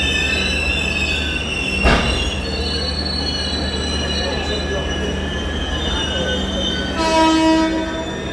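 An express train stands at Madgaon station with a steady, loud rumble of the train and platform, thin high squeals and tones running throughout, and a brief louder burst near the start.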